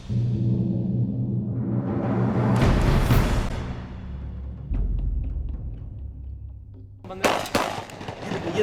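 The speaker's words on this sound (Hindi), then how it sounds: "पुलिस के दाखिल होते ही वहां मौजूद मुनशियात फरोशों की जानिब से फायर किया गया, जिसके जवाब में पुलिस ने भी फायरिंग शुरू कर दी।" Gunfire exchanged between drug dealers and police during a raid, a burst of sharp cracks and rumbling blasts around the middle, then a cluster of loud pops near the end over a noisy background.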